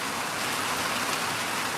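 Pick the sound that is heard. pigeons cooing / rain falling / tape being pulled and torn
rain falling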